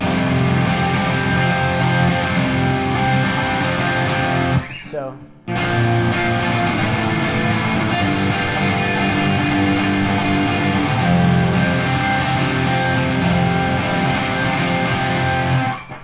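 Distorted electric guitar riffs steadily and loudly, broken by one brief pause near the middle before the gritty playing resumes.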